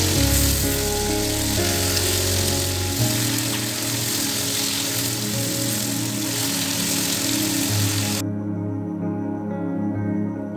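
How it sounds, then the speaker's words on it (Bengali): Marinated chicken pieces hitting hot oil in a pan with whole spices such as cinnamon and cloves, giving a loud, steady broadband sizzle that holds for about eight seconds before cutting off abruptly, with a low hum beneath. "এবার ম্যারিনেট করা মাংসগুলো এর মধ্যে আস্তে আস্তে দিয়ে দিলাম"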